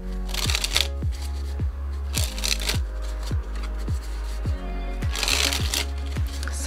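Bicycle Lo Vision playing cards, a stiff deck, handled and flipped one by one, giving a rapid series of crisp snapping clicks with brief riffling swishes, close and clear with no talk.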